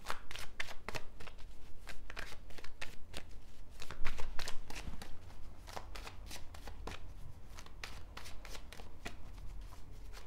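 Rapid, rhythmic riffling of tarot cards being shuffled close by, repeated continuously in quick bursts with no voices.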